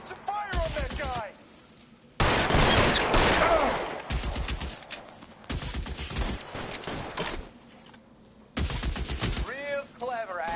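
Gunfire in the video game L.A. Noire comes as repeated bursts of rapid shots separated by short pauses, loud and close, with game voices heard between the volleys.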